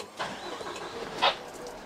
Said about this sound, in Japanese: それではまずエンジンをつけますね。